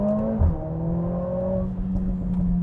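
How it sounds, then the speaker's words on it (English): A Mercedes-Benz A45 S AMG turbocharged four-cylinder engine revs loudly and close by, its steady buzzing tone holding and then climbing in pitch over about two and a half seconds, with no voices. "this might have the best 4-cylinder sounds I've ever experienced"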